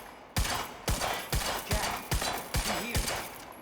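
Pistol shots in the video game Quantum Break strike books, eight sharp evenly spaced cracks, each followed by a short rattling impact tail, fairly loud and with no talk over them.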